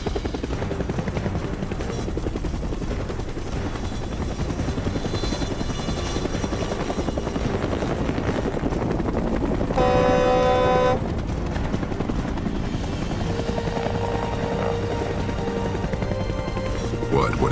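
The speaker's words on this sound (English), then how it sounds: "It's some kind of helicopter." A helicopter in the Minecraft video game drones with a steady, loud rotor chop for the whole stretch, with a brief horn-like tone in the middle and faint background sounds.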